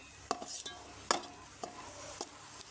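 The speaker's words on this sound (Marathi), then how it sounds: "चोय मसालो स्लो उज्याचेर तो भाजता" Masala for rajma roasting slowly in a pan over a low flame: a few separate scraping stir strokes at moderate distance over a quiet, faint sizzle.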